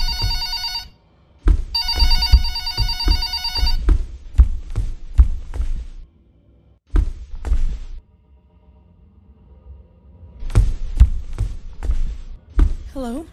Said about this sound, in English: Wait, is that the phone?